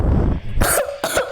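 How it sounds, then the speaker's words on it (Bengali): Two close, loud coughs from one person, about half a second apart, each a harsh burst standing alone with no talk around them. "কাশি চলে এসেছিলো"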